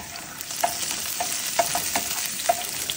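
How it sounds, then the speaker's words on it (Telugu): Chopped garlic frying in a pan gives a steady close sizzle, with light scraping stirs at irregular intervals and no talking. "గార్లిక్ ఫ్రై చేసుకోవాలండి"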